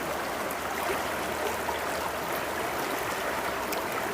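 Woodland river running steadily on a morning, a continuous broadband wash of flowing water at moderate level with no breaks or voices.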